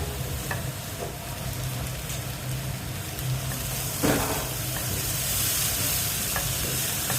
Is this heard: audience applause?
no